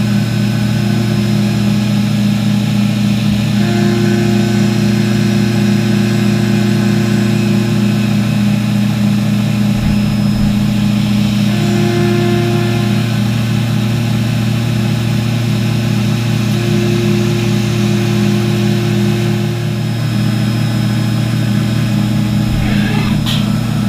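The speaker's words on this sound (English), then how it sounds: "we begin the first operation with the 4mm carbide end mill, which will cut most of the serrations" A CNC machine cuts serrations into a Springfield pistol slide blank with a 4mm carbide end mill, giving a loud, steady whine and hum that holds without a break.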